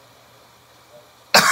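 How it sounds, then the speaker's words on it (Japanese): A single sharp cough bursts out near the end after near silence, close and loud. "ちょっと咳出るんでお水飲みますね"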